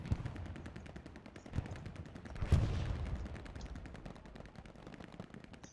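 Battle in a tournament match of a military shooter video game: rapid machine-gun fire rattles in a steady stream, with one louder blast partway through, all somewhat distant and muffled.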